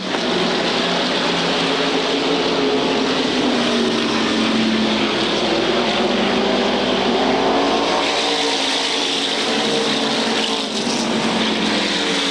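SK Modified race cars roar around the Waterford Speedbowl oval in a steady, loud, unbroken wall of engine noise, a pack of cars running together without pause.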